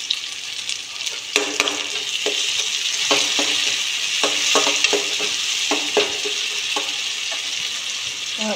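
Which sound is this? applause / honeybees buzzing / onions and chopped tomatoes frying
onions and chopped tomatoes frying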